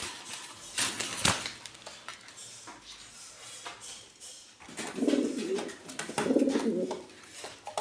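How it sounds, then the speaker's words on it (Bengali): A pair of large Bar Huma pigeons coo close by, with soft repeated calls swelling in two clear bursts over a faint background of rustling and room noise. "দর্শক এখানে দেখতে পাচ্ছেন খুবই সুন্দর এক জোড়া বিগ সাইজের বার হুমা, অরিজিনাল বার হুমা যাকে বলে।"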